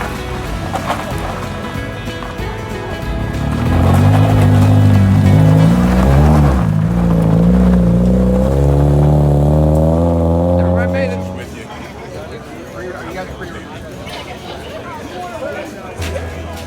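A Mazda car launches and revs hard at a Mazda Motorsports event: a loud, rising engine whine climbs through several seconds, then drops off into lower idle and background crowd noise.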